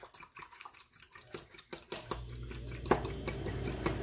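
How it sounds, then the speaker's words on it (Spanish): Gelatin being stirred quickly into a cup of cold water, with a spoon clinking and tapping against the cup, then a swishing, watery churn, close and fairly loud. "Vamos a poner toda la grenetina y vamos a mover rápido para hidratarla."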